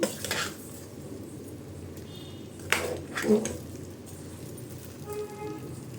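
Chopped citron pickle ingredients being stirred in a pan, with a few short clinks and scrapes of a utensil against the pan over a quiet background.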